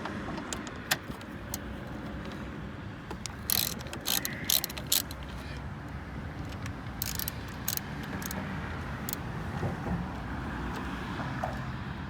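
A ratchet wrench with a 10 mm socket works on a bolt at the intake of a Kia Soul Turbo during a K&N intake install, making bursts of rapid clicking ratchet sounds with pauses between them, close to the listener.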